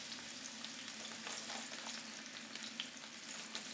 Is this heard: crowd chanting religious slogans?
no